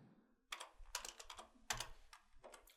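A computer keyboard is typed on in short bursts of quick, light clicks, with brief pauses between the keystroke clusters. The clicks sound close and fairly quiet, and nothing else is heard.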